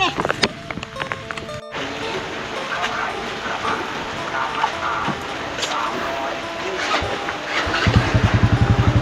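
A motorcycle engine starts and settles into a steady pulsing idle near the end, heard amid outdoor noise at a rain-threatened rice field where people talk.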